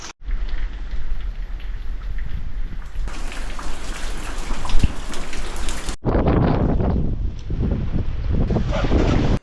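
Steady heavy rain falls during a motorbike trip in Ladakh, a dense continuous hiss with gusts of wind buffeting the microphone and a sharp shift in intensity partway through.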